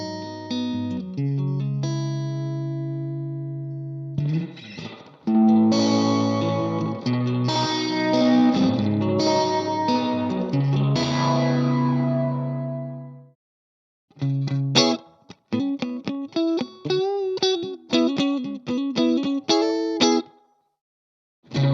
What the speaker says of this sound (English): Now I have the amp gain and delay mix levels I desire to create the perfect preset tone.